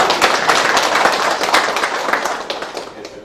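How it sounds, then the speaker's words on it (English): Brief burst of audience clapping at a technical education event, dense and fairly loud, tapering off over a few seconds. "should give a big clap to sir."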